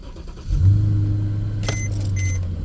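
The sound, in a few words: car engine starting with push button ignition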